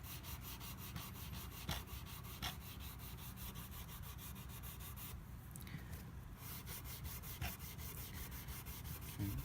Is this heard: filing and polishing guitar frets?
yes